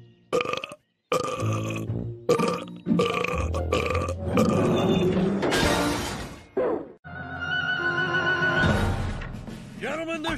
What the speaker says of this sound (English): I'll see that burp and raise you another.